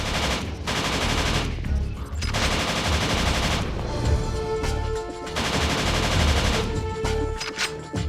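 Sustained automatic gunfire from the third-person shooter The Suffering on Xbox Series X, loud, dense bursts with brief gaps, game music and effects layered beneath.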